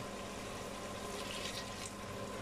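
Water is poured steadily into a pan of fried turnips in a home kitchen, a continuous soft splashing hiss that stays even and fairly quiet with no talk.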